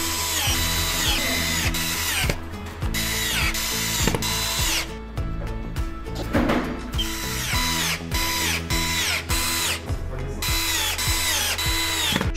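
A power screwdriver drives self-tapping screws through corner brackets into the side rails of a double bed frame. It gives repeated short whirring bursts that bog down as each screw seats, with ratcheting clicks in between. The bursts are close and loud, with no speech.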